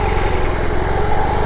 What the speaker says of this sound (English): the bike's a little bit more aggressive on the idle with the shake and rumble.